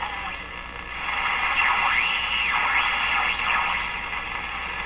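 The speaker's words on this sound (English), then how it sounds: "Do you hear the heterodyne tones as I tune? That sort of swoosh, swoosh sound." An Electrohome PK-104 five-tube radio being tuned, producing loud sweeping heterodyne whistles that rise and fall in repeated swoosh arcs over a steady static hiss, with no voices.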